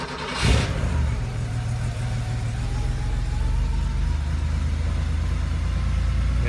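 A car engine cold-starts with a brief burst, then settles into a steady, droning idle that runs at low RPM and continues evenly to the end.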